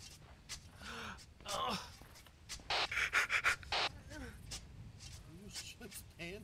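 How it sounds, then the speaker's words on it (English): A soldier character in ArmA 3 breathes heavily and loudly, rhythmic panting gasps close up, with people talking over it at times. "Why the hell is breathing so loud?"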